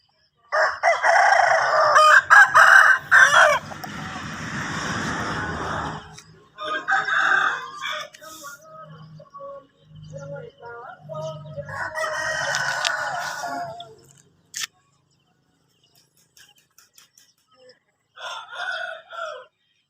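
Burmese gamecock roosters crow loudly and close by, several long crows following one another with short silent gaps between them.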